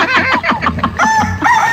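A fighting rooster crows close by after losing a cockfight, a loud, strained cock-a-doodle-doo with clucking notes, brief and clear.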